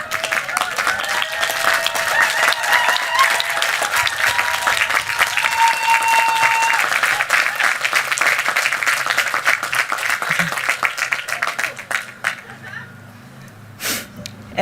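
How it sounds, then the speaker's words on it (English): Graduates at a 2023 commencement ceremony stand and applaud their support teams, a loud sustained wave of clapping from a large crowd with some cheering voices, fading out around twelve seconds. "Graduates, please stand and applaud your support team members."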